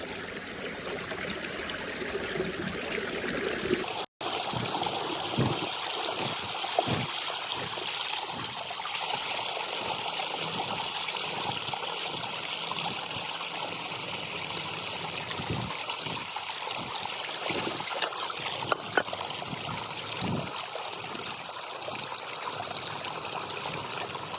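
Water pumped by a farm motor pump gushes steadily into a field channel, a continuous close rushing flow with a faint underlying hum, lasting throughout with no speech.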